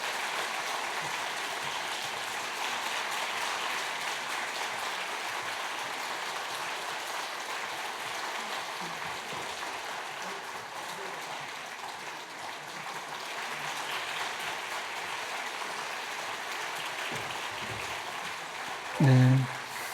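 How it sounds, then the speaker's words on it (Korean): Church congregation applauding during a Sunday service, sustained broad clapping that holds steady throughout, ending with a brief thump. "우리 세 분을 위해서 박수를 크게 축복해 주면 좋겠습니다"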